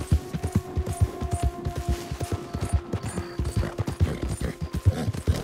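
A horse trots in Red Dead Redemption 2, its hooves clip-clopping in a quick steady rhythm throughout, with faint game ambience and a few tonal effect sounds underneath.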